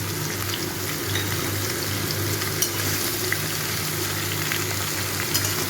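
Mixed vegetables with chopped green chillies and tomato fry in a pan, a close, steady crackling sizzle that holds evenly throughout with faint occasional clicks and no voices.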